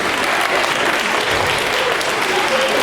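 An audience applauds teachers standing up at the Sandown North Blue Ribbon celebration, a steady full wash of many hands clapping, loud and continuous throughout.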